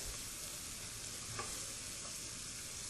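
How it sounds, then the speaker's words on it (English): Leeks sweating in a pan make a soft, continuous sizzle with faint stirring scrapes, low in level and unbroken. "our leeks are still sweating. We're just going to let that cook for a little bit longer."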